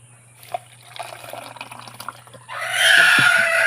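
Drinking water splashes and trickles into a container at breakfast, faint dripping sounds at first, then a louder steady gurgling fill.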